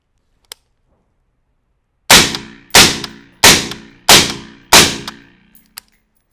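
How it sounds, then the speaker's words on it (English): A carbine fires five loud, evenly spaced rounds at a target on a range, each sharp crack followed by a short decaying echo, close and dominant with no voices. "and then fire 5 rounds"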